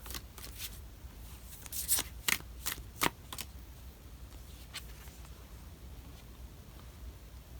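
A deck of tarot cards shuffled in a pick-a-card reading, a cluster of crisp riffling bursts near the start, then softer card slides and taps as a card is drawn, close and quiet.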